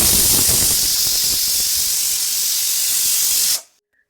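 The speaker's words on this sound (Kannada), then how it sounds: "ಕುಕ್ಕರ್ 1 ವಿಷಲ್ ಆಗಿದೆ" A pressure cooker on a kitchen stove vents in one loud, continuous steam whistle and hiss that cuts off abruptly near the end.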